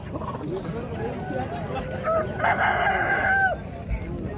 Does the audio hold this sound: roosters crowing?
yes